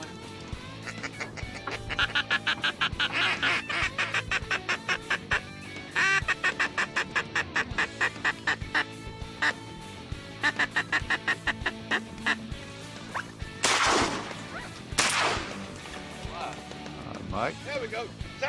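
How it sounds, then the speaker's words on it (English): Ducks quack in rapid, repeated bursts in a Louisiana hunting marsh, loud and busy, mixed with a voice talking and sharp noisy bursts near the end. "Big ducks out there, Mike?"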